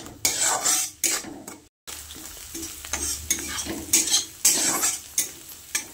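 Ground cumin, coriander, turmeric and salt sautéed in a pan with a paste base for a hilsa fish-head and ridge gourd curry: sizzling with repeated scrapes and clinks of a spoon stirring against the pan.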